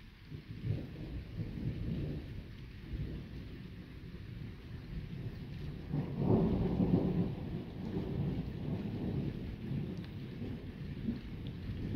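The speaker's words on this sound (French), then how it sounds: "c'est en train de devenir un orage multicellulaire" A strong nighttime electrical thunderstorm in August: steady rain patters over a low rolling rumble of thunder, swelling into a louder peal midway and continuing to grumble in the distance.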